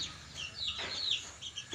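Backyard country chickens clucking, a few soft, faint chirpy clucks and calls close together over a quiet background.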